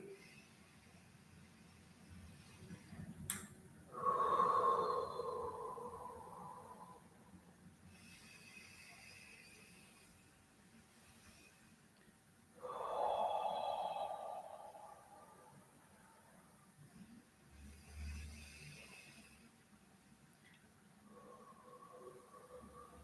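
Slow paced breathing exercise, two long breath cycles each swelling and fading over several seconds, soft and close against a quiet hum, with faint lighter breaths between.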